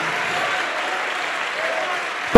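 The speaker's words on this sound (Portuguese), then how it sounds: "Vamos aplaudir mais," A church congregation claps steadily and densely throughout a Pentecostal worship service, a close, even wash of applause that ends in a sharp loud knock.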